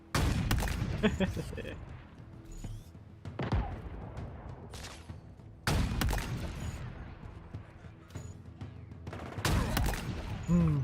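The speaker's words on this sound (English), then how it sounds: "Sniper rifle!" Heavy sniper rifle shots from Halo Infinite boom out in a widely spaced series, each blast followed by a long echoing tail, with a voice speaking between the shots.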